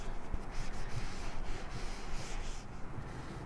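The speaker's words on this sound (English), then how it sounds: "I'm going to clean up my mat here. I just have some rubbing alcohol in there," A craft mat is rubbed clean with a cloth dampened in rubbing alcohol, giving a steady, close scrubbing and swishing sound that continues unbroken with no voices.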